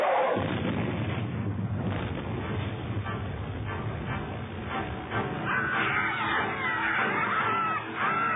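Cannon fire erupts in a pirate cartoon battle, loud booming blasts crowding a dense, chaotic mix with shouts and other clamor throughout.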